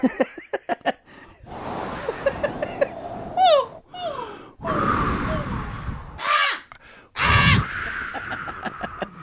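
A person imitates crows cawing with the voice, giving a run of harsh, rasping caw-like calls in several bursts, loud and close, with laughter and gasps mixed in.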